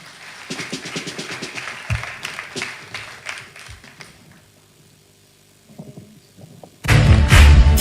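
Scattered audience clapping at an Easter celebration event rises and falls over several seconds, thins out into near quiet, then a sudden loud burst of sound breaks in at the end.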